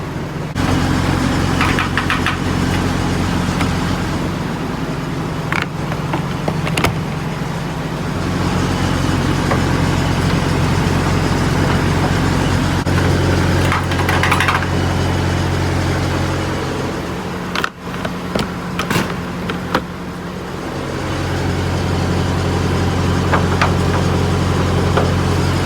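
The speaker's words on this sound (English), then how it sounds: "It's just a smoother running truck now." A Peterbilt 579 truck engine, newly fitted with a fresh oil cooler, runs at a steady idle, a loud, close, even diesel rumble with a faint tick and brief clanks partway through.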